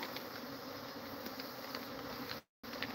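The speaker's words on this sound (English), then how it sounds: "These are nasty bees." A dense, steady drone of many bees buzzing close by, continuous and loud, with a brief dropout near the end.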